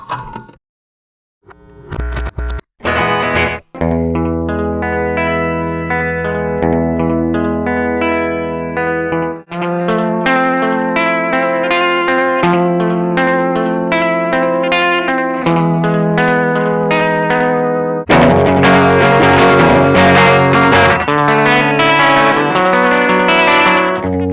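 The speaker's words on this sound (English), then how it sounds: "I'm using the SP555 as a preamp because it has a really nice slap echo" Electric guitar played through an SP-555 used as a preamp with slap echo, loud distorted chords and ringing notes with short repeating echoes, growing denser and louder toward the end, no talking.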